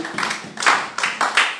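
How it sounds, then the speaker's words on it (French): A church congregation clapping together in a few short, rhythmic bursts of hand claps, fairly close and clear, with no talking over them. "Voilà, nous acclamons"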